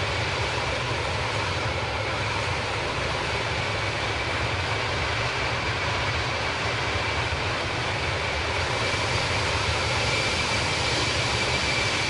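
Steady, even roar of Airbus jet engines in flight in Microsoft Flight Simulator, a continuous broadband whoosh with a faint high whine, unchanging and alone with no talk.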